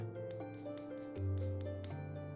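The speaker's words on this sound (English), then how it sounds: "The sound of so many gills clinking together is strangely satisfying" Gil coins clink in a heavy money pouch in the Final Fantasy XIV video game, with a few sharp metallic chinks set against sustained, steady game music.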